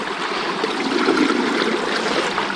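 Water from a hose pours into a gravity-fed sluice box outdoors, a steady close trickling stream that runs evenly throughout with no speech.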